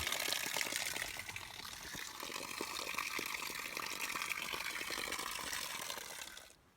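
Spring water fed from higher up a mountain gushes steadily out of a rusted pipe into a filter along a backpacking trail, a close, continuous splashing rush that fades out at the end.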